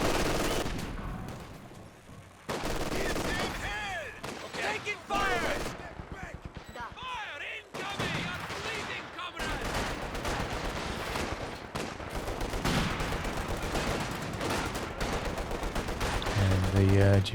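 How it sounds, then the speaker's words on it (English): Machine-gun bursts and rifle fire in a Company of Heroes 2 battle, rapid rattling volleys broken by short pauses, with a voice talking over much of the action. "Good burst from the machine gun though."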